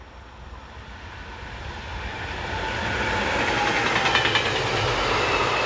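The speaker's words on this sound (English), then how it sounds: "This is Berlin-based 145052, on a very short westbound freight carrying military vehicles." Electric locomotive 145052 hauling a very short westbound freight train of military vehicles, a broad rushing rumble swelling as it nears and passes, with rail and wheel noise and no talk.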